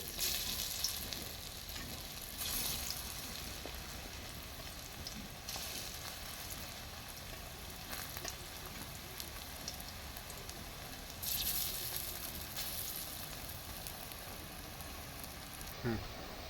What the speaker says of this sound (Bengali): বন্ধুরা তেলটা গরম হয়ে গেছে, এবার আমি ধোকাগুলো ভেজে নেব